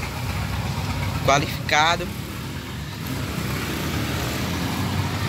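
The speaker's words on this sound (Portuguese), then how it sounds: "Agora eu tô trazendo aqui o vídeo do Valtra, antigo Valmet" A Valtra tractor, the brand formerly called Valmet, idles at a drivers' festival in Simão Dias, Sergipe, its steady low engine rumble running throughout while someone speaks briefly over it.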